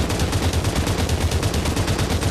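Automatic gunfire in the VR battle-royale shooter Population One, firing in a rapid, steady rhythm of shots that lasts the whole moment, loud and close with no talking.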